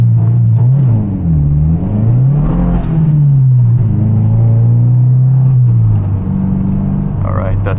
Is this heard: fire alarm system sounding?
no